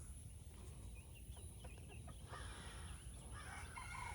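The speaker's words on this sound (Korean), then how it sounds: "우리 집에 수탉이 엄청 많답니다" Roosters on a home property crow and cluck faintly, with a couple of drawn-out calls and short clucks in the second half of the clip over a low, steady background hum.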